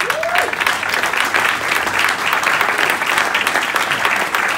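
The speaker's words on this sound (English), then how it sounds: "Carry on the round of applause, guys." An audience at the 2019 Pride of Formby Awards applauds an Extra Mile Award win with steady, sustained clapping that fills the hall throughout.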